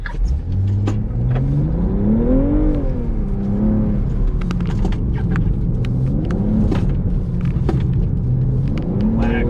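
A BMW G80 M3 pulls away on the Spartanburg factory track, its engine revving through rising and falling tones with a steady, loud rumble up close and no talk over it.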